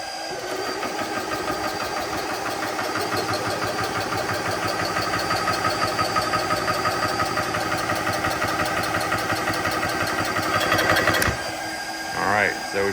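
A GX CS2 PCP air compressor pump runs steadily through a deadhead pressure test, a dense mechanical drone with rapid pulsing strokes that rises slightly in strain before cutting off near the end.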